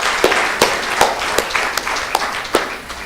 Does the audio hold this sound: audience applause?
yes